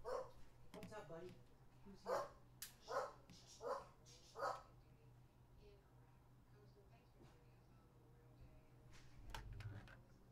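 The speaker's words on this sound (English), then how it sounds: "it was just my dog going nutso" A dog barks repeatedly nearby in a quick series of about six loud woofs, then quiets into faint room tone.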